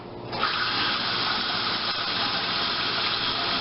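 Steady rush of running cold tap water, constant and fairly loud throughout, with faint handling as a peeled onion is rinsed under the stream.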